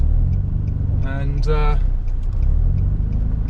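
A broken-down car is towed along a road by a Nissan 350Z, with a steady low engine and road rumble inside the cabin and someone talking briefly over it.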